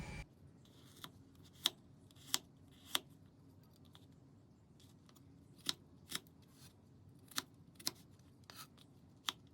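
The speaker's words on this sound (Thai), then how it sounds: "เราจะนำมาหั่น ให้ ขิงเนี่ยเขามีทรงเป็นขนาดสี่เหลี่ยมลูกเต๋า" A knife dices young ginger into small cubes, giving sharp, crisp chopping clicks that land in irregular bursts over a quiet background, fairly close and distinct.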